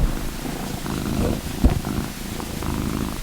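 A cat lying on someone's lap purrs steadily and closely, a low, continuous rumbling with a faint rhythmic pulse and a brief louder bump midway. No one talks over it.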